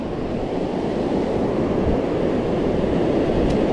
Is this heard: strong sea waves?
yes